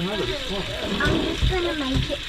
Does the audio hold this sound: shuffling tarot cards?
no